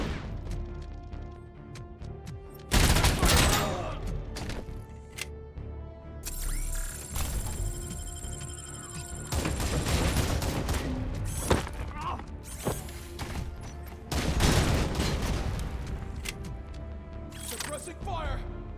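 Gunfire and mechanical clanks in RoboCop Rogue City, with several loud bursts of shots and crashes spread among whirring machinery and metallic impacts, while voices speak throughout.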